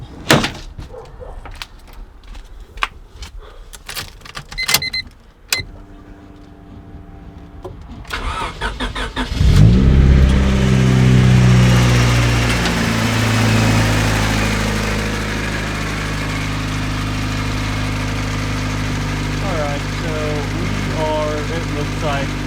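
A turbocharged Honda Civic with an adjustable fuel pressure regulator cranks and fires after a few door and handling clunks, then settles into a loud, steady idle that drones on close by; a voice speaks briefly before the start.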